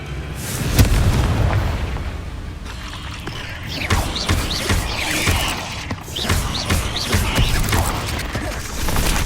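Confringo blasting spells exploding in the video game Hogwarts Legacy, several loud booming bursts spaced a couple of seconds apart over a rumbling, crackling combat background.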